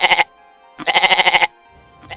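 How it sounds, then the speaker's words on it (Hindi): A goat bleats loudly and close by in two calls: a short one, then a longer wavering one after a brief pause. A faint sound follows at the end. "एक बड़ी सी गुफा की तरफ जा रहा है, जहां से एक बकरे की मिमियाने की आवाज आ रही है।"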